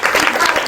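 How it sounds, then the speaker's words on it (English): Brief burst of audience applause closing a panel at an authors' literary festival, dense clapping from a crowd with a voice faintly over it. "And a round of applause."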